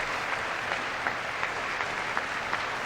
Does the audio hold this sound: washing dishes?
no